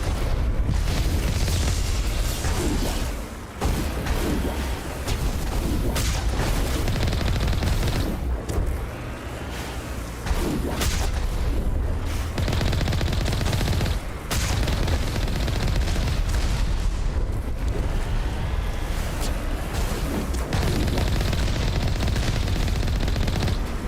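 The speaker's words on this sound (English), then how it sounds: "Something's shooting at me." Sustained gunfire in the Mass Effect game while driving around on Ferros, with dense overlapping bursts and booms filling the whole stretch and barely pausing.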